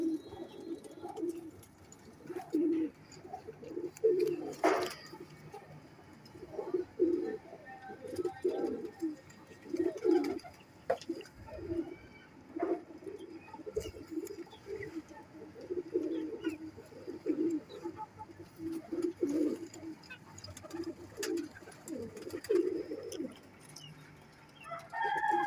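Pair of Dobaz-breed pigeons cooing in a loft, repeated soft low coos in steady rhythmic bursts, fairly close, with some faint background noise and occasional other birds.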